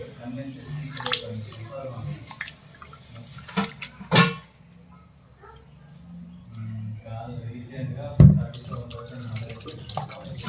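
Finger millet (ragi) grains being rinsed in water in a home kitchen, with steady sloshing and running-tap sounds throughout, a few sharper splashes and clinks around the middle and near the end, and a voice talking faintly underneath.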